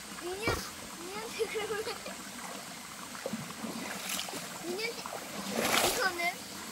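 Children play in shallow waves, splashing water forward with irregular bursts of splatter, while young voices and an adult talk throughout at close range.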